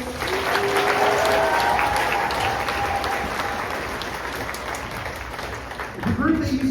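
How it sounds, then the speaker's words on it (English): Audience applause for soloists at a high school spring choir concert, full steady clapping from the crowd that thins slightly toward the end, with a brief low voice or sound entering near the close. "Another round of applause for that round of soloists."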